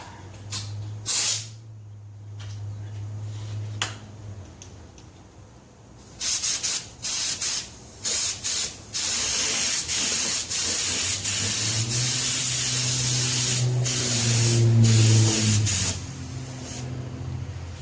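Rust-Oleum paint sprayed onto a Club Car golf cart gives short bursts of airy hiss at first, then a long steady spray with a low compressor-like hum underneath, close by.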